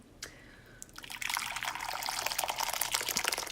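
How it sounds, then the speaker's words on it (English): Hot water from a tea kettle pours into a bowl: after a faint clink and a short quiet pause, a continuous splashing stream starts, close and growing slightly fuller, with no speech. "So I used this tea kettle to heat the water, and now I'm pouring it into this bowl"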